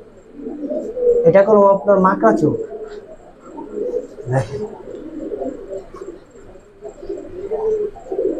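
Giribaz flying pigeons and coloured fancy pigeons coo nearby in low throaty rolls, mostly beneath a man's loud, close talk, with clearer cooing in the pauses.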